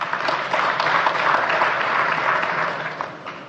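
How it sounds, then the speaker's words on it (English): Audience applause at a Nigerian official gathering, a steady dense wash of clapping from a large crowd that holds through the whole stretch and tapers slightly at the end, no voices over it. "A round of applause for him"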